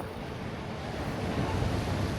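Ocean surf rolling steadily beside snowy shoreline in Sapporo, a continuous broadband wash of waves with wind noise on the microphone, fairly loud and unbroken, no voices.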